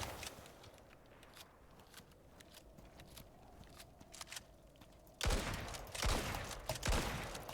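Gunfire from the Icarus survival video game, a faint run of scattered soft shots giving way to louder, rapid bursts near the end.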